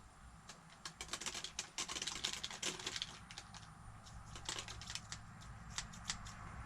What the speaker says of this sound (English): I'm going to hold it over the dang garbage can and just give her a cut